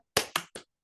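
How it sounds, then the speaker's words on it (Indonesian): Three sharp, loud claps from a school class doing the Indonesian tepuk semangat rhythmic clapping chant, each a quick crack with a short decay, spaced evenly in a steady rhythm. "mari kita tepuk semangat terlebih dahulu"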